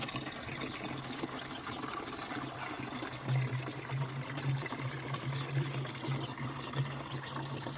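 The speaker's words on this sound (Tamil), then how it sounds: "வந்து குளியில் தண்ணி ஊற்ற போகிறோம்" Water poured out at a house construction site, a continuous splashing and trickling wash with a low steady hum running underneath, moderately close and fairly even throughout.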